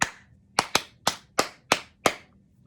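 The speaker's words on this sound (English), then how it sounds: "Clap it again" Crisp close hand claps tap out a short rhythm in a music lesson: seven dry strikes with two quick doubles, each ringing briefly in a quiet room, with no talking.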